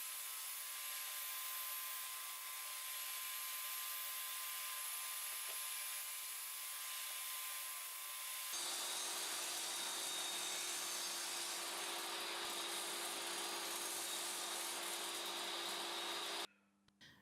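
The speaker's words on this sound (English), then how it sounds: "Now I can finish machining the central cut in the table. I'll do it in several runs" A power tool machines a central cut in a plywood table in several passes, giving a steady high-pitched whine that shifts to a louder, harsher cutting tone midway, then stops abruptly near the end.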